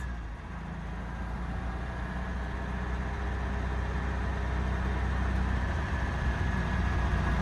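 A Volkswagen Bug engine running after its mixed-up spark plugs were sorted out, a steady low rumbling idle with an even throb that swells slightly louder over the seconds, close and continuous with no talking.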